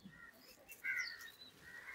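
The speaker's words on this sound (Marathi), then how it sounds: "मला पक्ष्यांचे आवाज येत असतील." Faint bird chirps and short calls ring out in a quiet outdoor setting in the morning, one brief louder tweet standing out near the middle.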